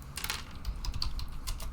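Typing on a computer keyboard at a desk, a steady run of close, quick key clicks and taps with uneven rhythm, over a low background hum.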